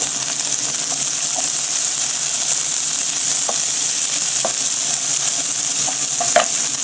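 Onions fry in a pan with a constant close sizzle, broken by a few sharp clicks and scrapes of stirring, loud and steady with no talking.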